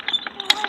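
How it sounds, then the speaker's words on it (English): A short plastic creak and click as the cap comes off a cruise control actuator during an install on a 2003 Toyota Corolla, a few quick, close mechanical snaps. "I'm just gonna take the cap off of the actuator"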